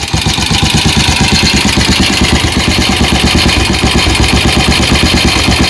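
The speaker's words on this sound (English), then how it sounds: "it won't continue to idle on its own because it fluctuates. But it's doing it now." A Triumph TR5MX motorcycle engine idles low at around 550 rpm, a steady, loud, close putter with a slightly uneven, fluctuating beat throughout.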